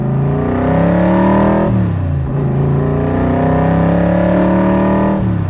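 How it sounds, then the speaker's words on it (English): A 1965 Shelby Cobra Backdraft engine revs up loudly, drops back briefly, then climbs and holds again in a deep, throaty roar with no talking. "Now I'm just barely touching the accelerator."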